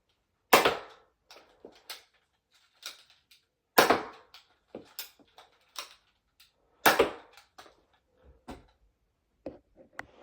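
A Buzzbee Air Warriors Tek 3 blaster fires Nerf Elite darts in three loud, sharp pops spaced about three seconds apart, each followed by quieter clicks and clacks of priming and handling.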